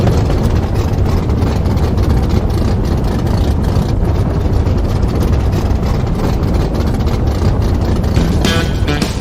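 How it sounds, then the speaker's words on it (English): Racing engines rumble loudly and continuously at idle, a dense, steady low roar with no pauses and no voices. "Racers, start your engines."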